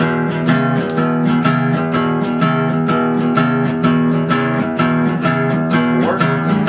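A twelve-bar blues progression in E is played straight through, with steady rhythmic chords and a repeating bass line at a moderate tempo, clear and alone without talking.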